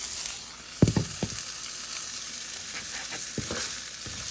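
Onions frying in a pan for Bicol Express, a soft steady sizzle with a few sharp clanks of a utensil against the pan scattered through, no talking.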